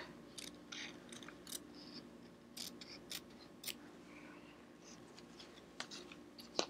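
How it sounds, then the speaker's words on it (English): Small scissors snip close to the edge of fabric for a mini iron appliqué circle, a series of quiet, crisp, irregular cuts near at hand over a low background hum. "we're going to snip like close to the edge again"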